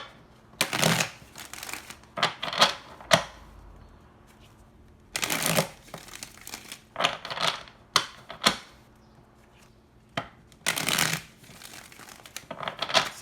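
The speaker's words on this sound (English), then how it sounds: "Let's get you 7 cards out." Tarot cards are riffled and shuffled in several brisk bursts of crisp fluttering clicks, separated by quiet pauses, close to the microphone.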